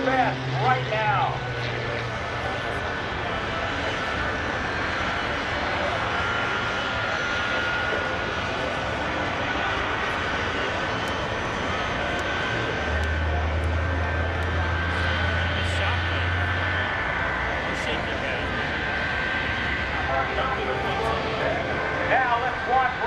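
An aerobatic propeller airplane flies at the NAS Oceana airshow, its engine drone holding steady and loud throughout, with an announcer's voice over the public address.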